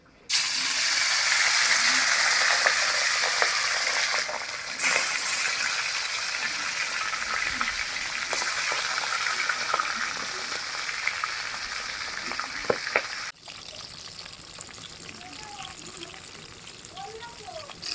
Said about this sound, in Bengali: তো তেল কিন্তু গরম হয়ে গেছে। তো প্রথমে আমি পাবদা মাছগুলো ভাইজা নিব।